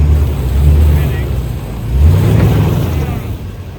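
A car engine revs under steady throttle as the wheels spin, likely on loose ground, rising in two swells of droning, roaring effort while people talk nearby.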